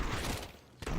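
Rapid gunfire from a Counter-Strike match, a dense burst of shots that fades briefly and then resumes with another sharp volley, fairly faint overall.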